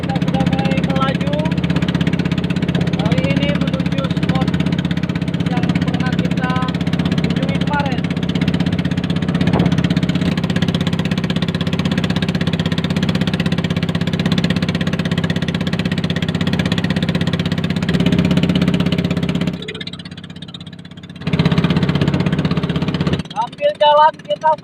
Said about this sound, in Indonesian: Oke Mas Bro, perahu kita sudah mulai melaju.